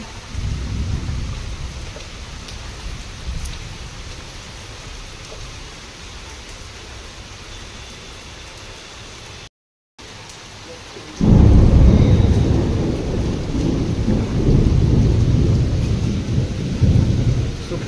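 Steady rain falls with a constant hiss, then grows heavier and louder partway through, with low rumbling thunder underneath.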